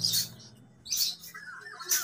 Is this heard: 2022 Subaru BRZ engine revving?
no